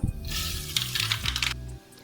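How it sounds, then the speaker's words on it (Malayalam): Teaspoon of mustard seeds dropped into hot oil in a pan while making green chilli pickle, giving a close, bright crackling sizzle with scattered pops, fading after about a second and a half. "നമ്മുടെ ഓയിൽ ചൂടായി വന്നിട്ടുണ്ട്. അതിലേക്ക് 1 ടീസ്പൂൺ കടുക് ഇട്ട് കൊടുക്കാം."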